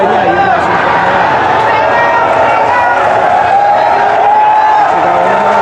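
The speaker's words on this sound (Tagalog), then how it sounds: "Sigawan ng mga tao." A boxing match crowd shouts in a continuous, loud roar of many voices, with a commentator talking over the noise throughout.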